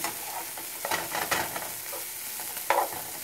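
Peas with turmeric rice cooking in a pan, giving a steady soft sizzle with a few brief scraping stir clicks, fairly close and moderately quiet, with no talking.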